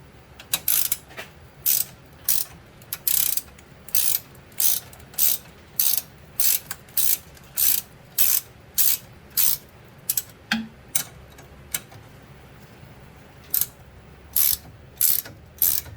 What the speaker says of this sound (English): Gear wrenches are man's best friend.